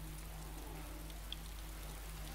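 Steady in-game rain hiss in DayZ, soft and continuous without pauses, with a faint low hum beneath and no voices.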